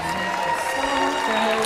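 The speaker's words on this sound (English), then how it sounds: "Give our Miss Grand International 2016 a round of applause" Audience at the Miss Grand International 2016 final show applauding and cheering, a steady wash of many hands clapping with crowd noise and tonal music or sustained sound underneath.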